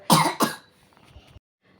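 Two quick, loud coughs close by, followed by faint rustling and then near silence.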